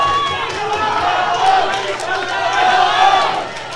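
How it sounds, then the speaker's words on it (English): Crowd noise at a Scottish super-bantamweight championship boxing bout, a steady roar of cheering and shouting voices that swells and dips across the few seconds, fairly loud and continuous. "This crowd nearly getting behind both boxers"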